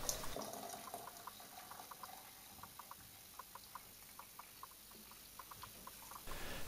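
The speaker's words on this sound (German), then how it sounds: "gießen dann das heiße Wasser in eine Kanne" Hot water from a kettle is poured into a teapot while making ginger tea, a faint steady trickling stream with small splashes and drips, heard alone in a quiet kitchen.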